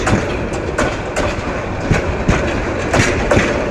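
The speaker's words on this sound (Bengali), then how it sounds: "এখন জয়দেবপুর থেকে আস্তে আস্তে করে চলে যাচ্ছে ময়মনসিংহে" A passenger train travelling from Joydebpur toward Mymensingh rolls along the rails, its wheels beating a steady, loud clickety-clack with regular rhythmic knocks close by, no voices over it.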